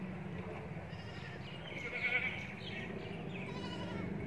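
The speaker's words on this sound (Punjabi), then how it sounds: "ਉੱਪਰਾਂ ਬੱਕਰੀਆਂ ਵੀ ਨੇ ਜੀ" Goats bleat faintly at a buffalo shed in a Punjab village near Jalalpur Jattan while livestock eat fodder; the call swells briefly in the middle over a low, steady farmyard murmur.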